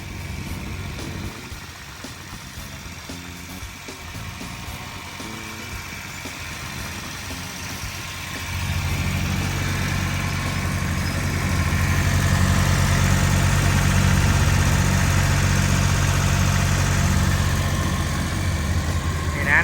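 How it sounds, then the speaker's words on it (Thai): An Isuzu 3LB1 three-cylinder diesel engine idles with a steady low rumble and vibration, growing louder and fuller partway through, running continuously up close. "ตัวนี้เนี่ยเขาจะใช้งานเป็นเครื่องยนต์อิซูซุ 3LB1 นะครับ"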